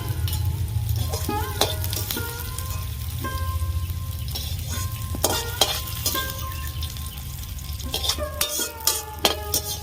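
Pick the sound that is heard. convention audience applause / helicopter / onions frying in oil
onions frying in oil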